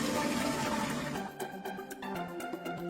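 Water pours steadily into wine jars, a dense, rushing splash that runs unbroken for about a second before settling into a thinner trickle with scattered drips and small bubbling spurts.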